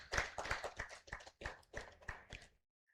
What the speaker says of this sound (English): Another round of applause, please, for Dr. Mwambu.